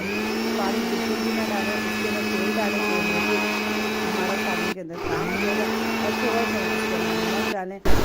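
A kitchen grinder or mixer runs steadily and loudly, finely grinding garlic with no oil added, with two brief pauses where the motor stops and restarts.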